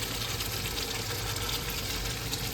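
Water pours steadily into a cooking pot of jackfruit for a jackfruit curry, a continuous, fairly loud rushing splash with no voices over it.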